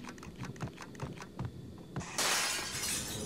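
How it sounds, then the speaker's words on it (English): Glass bursts and shatters in the video game Max Payne, a loud crashing spray that follows several sharp gunshot-like thumps, the shards ringing on for over a second. "And once again, walk through glass."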